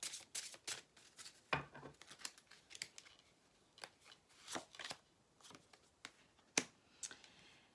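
Tarot cards are drawn one after another and laid onto a spread, giving soft papery slides and sharp flicks in an irregular rhythm, close and quiet, with no voices.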